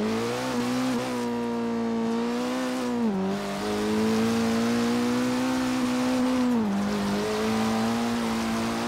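A high-revving Abarth 695 Biposto engine in Forza Horizon 3 whines steadily at full throttle, pitch rising with brief dips at gear shifts, continuous and close with no voices.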